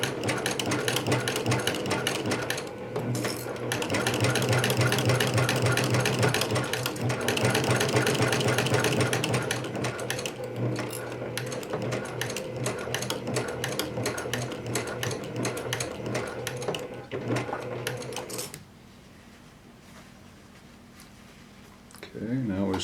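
A sewing machine runs in long steady bursts, stitching a seam on a pair of pants made from Simplicity pattern 8056, with a short pause near the end. A person talks over the machine.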